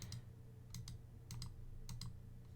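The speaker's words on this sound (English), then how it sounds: "he's currently typing in the chat what his problems are" Someone types on a computer keyboard in quick, faint clusters of clicks separated by short pauses, close and alone against a quiet background.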